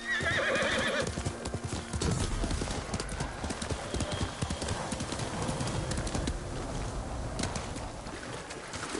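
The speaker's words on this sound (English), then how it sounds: "Good horse." Horse hooves clip-clop over ground in the samurai game Ghost of Tsushima, a quick steady rhythm of close hoofbeats with a brief whinny and game ambience around them, and no voices.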